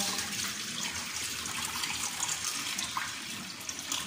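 Food is rinsed under a running kitchen tap after being coated in cornstarch, producing a steady, fairly quiet splash of water with small irregular splatters and gurgles, with no voices.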